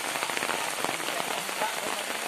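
Sudden heavy rain during the dry season pours down steadily, a dense hiss of drops pattering on surfaces at close range, continuous and even with a faint voice in the background.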